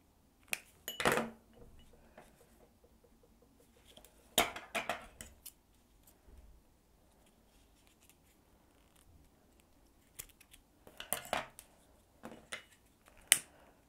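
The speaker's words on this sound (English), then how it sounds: "Now you need to snip the ends off again and melt them." Scissors snipping the ends off paracord while making a scout woggle, several sharp, close metallic snips in small clusters separated by quiet pauses.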